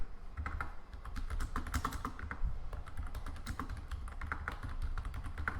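Rapid typing on a computer keyboard while writing JavaScript code, a steady stream of close, crisp key clicks with no talk.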